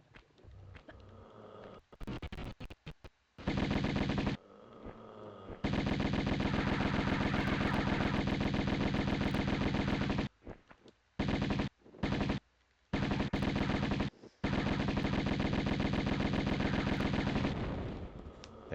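Bursts of rapid automatic gunfire from the 1996 Tomb Raider video game, loud and sustained in long runs broken by brief gaps and short separate volleys, with no talk over it.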